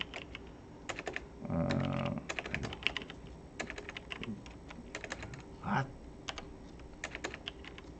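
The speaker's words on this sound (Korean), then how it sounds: "여기다 우리가 그냥 타이핑 쳐보면" Computer keyboard keys are typed in quick, irregular bursts of sharp clicks, close and clear, with a brief voice sound and a soft thump between them.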